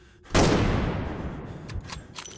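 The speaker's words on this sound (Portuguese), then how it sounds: "Deixa eu dar um tiro, ver se aqui explode o cenário." A single sharp gunshot in the World War I survival horror game Conscript cracks out loud and close, then rings into a long decaying echo with faint scattered game sounds after.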